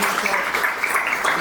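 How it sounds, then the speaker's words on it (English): An audience at a demo day event in Belgrade gives a round of applause, a dense wash of clapping that stays even and fairly loud for its short length, with no talking. "Please, a round of applause for Joseph"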